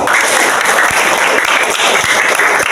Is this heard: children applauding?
yes